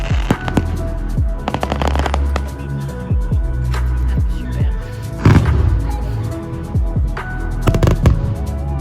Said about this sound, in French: On va au feu d'artifice et il commence à pleuvoir.